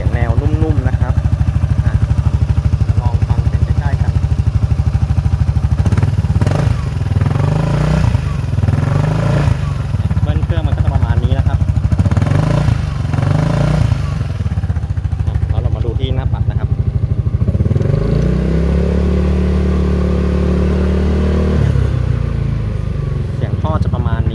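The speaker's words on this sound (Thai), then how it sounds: "แล้วก็ลองฟังเสียงเครื่องกันนะครับ ที่รอบเดินเบา" A Honda Forza scooter with a modified stock exhaust idles close by, a steady low engine throb with a few blips of revving, while someone talks over it throughout.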